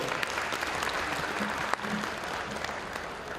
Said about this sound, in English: We must give a very powerful clap for him.